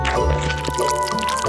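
Thick, gooey liquid pours from a big bottle onto a plate, a soft continuous glugging stream with small drips, fairly close and steady for a moment.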